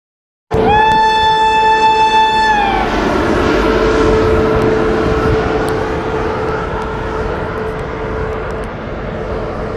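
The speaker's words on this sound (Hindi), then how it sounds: "तो ये है गाइस पुरी से साईनगर पुरी एक्सप्रेस सुपरफास्ट" Puri–Sainagar superfast express train at a station: a loud, close horn blast of about two seconds, followed by the heavy rolling rumble of the passing train that slowly fades.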